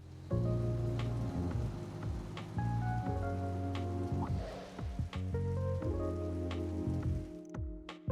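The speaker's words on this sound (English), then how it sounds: "the rain was coming down even more heavily" Heavy rain pours down in Trails through Daybreak, a steady loud hiss of drops on surfaces running beneath layered sustained music tones throughout.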